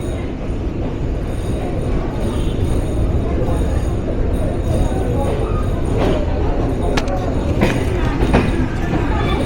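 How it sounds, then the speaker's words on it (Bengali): The Chitra Express passenger train pulls out of Tangail railway station in Bangladesh, a loud continuous rumble of wheels and carriages heard from on board, with occasional squeals and clanks. "টাঙ্গাইল জেলার টাঙ্গাইল রেলওয়ে স্টেশনে 3 মিনিট যাত্রাবিরতি সম্পূর্ণ করে দক্ষিণের জনপ্রিয় চিত্রা এক্সপ্রেস যাত্রা শুরু করলো।"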